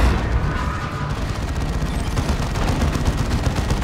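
Fire Prism tank plasma cannon in Dawn of War II: Retribution, a dense, loud barrage of overlapping blasts and crackling bursts that run steadily for the whole stretch with no pause.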